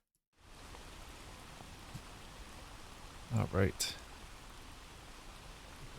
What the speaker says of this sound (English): I also want to thank Kyster for the rain sound we're going to listen to in a moment.